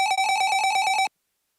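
Synthetic telephone ring from a video game under development: a rapid, steady electronic trill with bright tonal partials, loud and close, running about a second before cutting off abruptly into silence.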